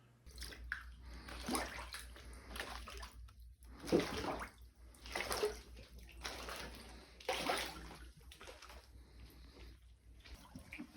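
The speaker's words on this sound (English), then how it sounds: "I'll roll the clip of me walking through the water that I've shown on stream like 3 times now" Sloshing, splashing steps through flood water in a basement, arriving as repeated close bursts about every second or so over a low steady hum.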